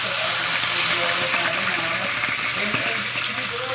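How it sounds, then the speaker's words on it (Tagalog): Water is poured steadily from a glass into a pan of cooking green mussels, making a continuous close splashing hiss with faint sizzling beneath. "Lagyan natin ng kaunting tubig."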